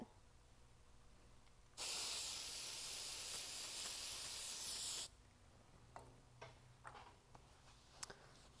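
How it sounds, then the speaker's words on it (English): Cleaner from a dye penetrant kit sprays from an aerosol can onto a weld in one steady hiss lasting about three seconds, followed by a few faint ticks and handling noises. "we're going to use the cleaner and clean this off"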